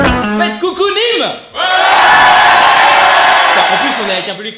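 Live comedy audience in Nîmes erupting into loud cheering, whooping and shouting, a dense sustained crowd roar that swells after a brief dip and holds steady, with a voice calling out at the start.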